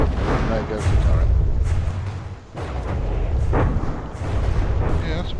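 A turret is destroyed in a combat video game amid constant rumbling artillery fire and booming explosions, loud and dense, with a voice talking over the battle.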